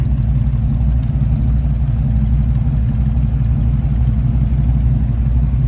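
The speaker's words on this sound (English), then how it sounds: "let's zip around behind this so you can hear it run. True dual exhaust." A 1937 Ford pickup street rod engine idles steadily with a deep, throaty true dual exhaust rumble, loud and close, running continuously without change.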